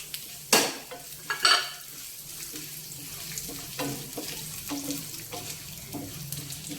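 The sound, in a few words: mustard seeds, cumin, dried chillies sizzling in hot oil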